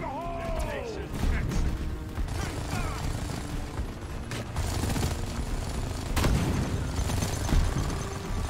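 Grenade blasts in the co-op video game Deep Rock Galactic, during an elite deep dive: repeated booming explosions and gunfire crackle through a dense, busy battle mix, with talk over the chaos.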